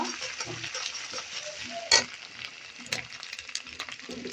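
Ginger and garlic paste frying with lightly browned onions in a pan, a steady low hiss broken by scattered clinks of a spatula against metal and one sharp scrape near the middle.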